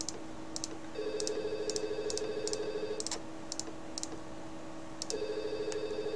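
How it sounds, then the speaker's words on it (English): A Skype incoming-call ringtone chimes on a computer in repeated melodic bursts, quiet and steady, with faint clicks between rings and no talk over it. "There's that phone again."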